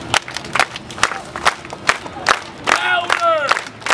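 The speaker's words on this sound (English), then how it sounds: "Everybody, clap your hands." Street performers' crowd on the Las Vegas strip clapping hands in a steady rhythmic beat, loud and close, with shouting voices and a cheering cry rising near the end.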